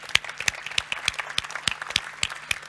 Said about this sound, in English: shall we just give ourselves a big round of applause for our first live session this year?